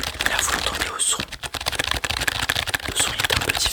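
Rapid clicking keystrokes on a mechanical gaming keyboard, tested up close in a small computer shop, a continuous clatter of taps with a soft voice partly mixed in.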